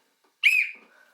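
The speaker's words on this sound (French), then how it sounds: "Alors il y a un sifflet." A small survival-kit whistle gives one short, sharp, high blast, loud and close, fading out within about half a second against otherwise quiet surroundings.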